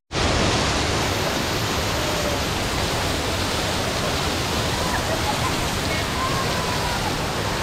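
One of the Akame Shijuhachi waterfalls running with a heavy flow of water, a loud, dense, constant roar of falling water that starts abruptly and holds unbroken throughout.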